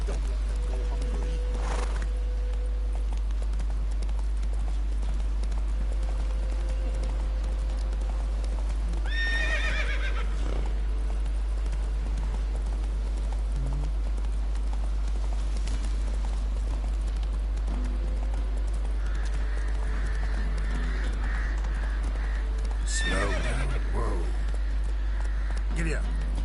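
In The Witcher 3 video game, a horse trots with steady clip-clopping hooves and lets out a neigh, while voices talk over the ongoing gait.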